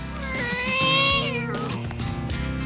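A cartoon character imitates a cat, letting out a long, loud, wavering meow that rises and falls, then a couple of shorter mewing yowls, with no other talk.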